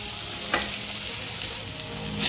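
Sabudana (sago pearls) fry with steamed potatoes in a pan, giving a brief, steady close-up sizzle with one quick stirring scrape and no speech.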